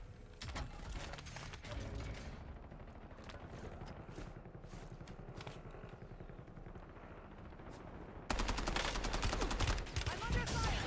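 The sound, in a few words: gunfire in the Warzone video game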